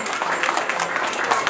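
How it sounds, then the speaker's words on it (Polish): A crowd applauds at a Three Kings carolling event in Sopotnia Mała, a brief burst of dense clapping with a voice talking over it. "Moi kochani, wielkie, wielkie brawa!"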